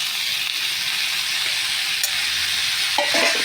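Chopped tomatoes go into a masala frying in a pan for masala pattani, giving a steady close sizzle with scraping stir strokes and a brief clatter near the end.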